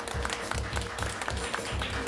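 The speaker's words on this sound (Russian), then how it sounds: "Спасибо большое за эти аплодисменты." A concert audience claps in a dense, steady patter of hands that carries on throughout at moderate level, with no speaking.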